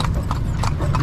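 Horse hooves clip-clopping at Luneta Park in Manila, a quick run of sharp, close hoof strikes on pavement over a steady crowd-and-traffic hum, with voices talking in the background.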